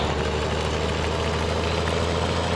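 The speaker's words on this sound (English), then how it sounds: "we will go start up the Big Bud" A Big Bud tractor engine in the Farming Simulator 17 video game settles into a steady, heavy, low-pitched idle rumble, constant and close with even vibration throughout, with no voices.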